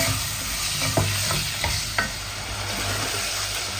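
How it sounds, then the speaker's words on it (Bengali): Chicken fries with ginger-garlic paste and onion in a pan, a constant close sizzle broken by a few sharp scraping knocks of a stirring spoon, with no one talking. "ভেজে নিব আদা রসুন পেস্ট আর পেঁয়াজের সাথে"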